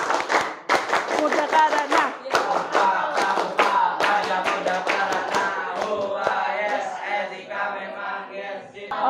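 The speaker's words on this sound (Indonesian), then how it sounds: "kita tutup pembelajaran hari ini dengan 2 kali tepuk pramuka" A school class performs the Indonesian scout clap, tepuk pramuka, twice in a row: crisp, rhythmic group hand-claps in a fast patterned sequence, mixed with voices calling along.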